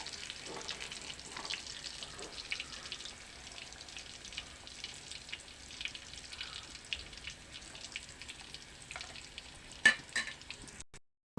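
Spicy red chicken pieces fry in oil in a pan with a faint, steady sizzle, broken by scattered stirring clicks. A sharp clatter comes near the end.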